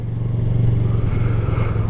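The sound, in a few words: motorcycle engine revving while coasting in traffic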